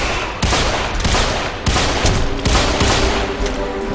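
Gunfire in the video game Deadfall Adventures comes as loud, heavy volleys of rapid shots, with several distinct surges and brief lulls between bursts over a few seconds.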